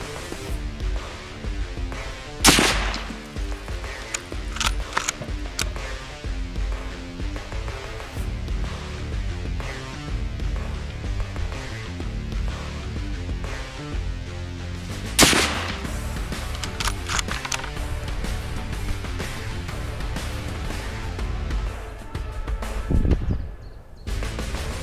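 Mosin rifle fired for grouping at a range: two loud, sharp shots several seconds apart stand out over a continuous background of other noise and activity, with no talking.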